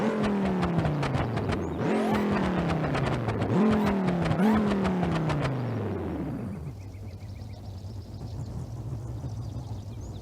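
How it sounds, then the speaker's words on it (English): A custom car engine in BeamNG.drive revs hard through several rising pulls with sharp shifts, loud and close, then drops back to a low steady idle. "I just want to hear this thing because this is a custom engine noise"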